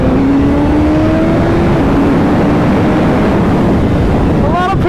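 A 2022 third-generation Suzuki Hayabusa is ridden, its engine note rising steadily in pitch through the gears, then briefly dipping and climbing again, loud and close under heavy wind rush.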